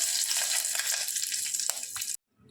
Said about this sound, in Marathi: तेल गरम झालेलं आहे आणि आता आपण कढीपत्ता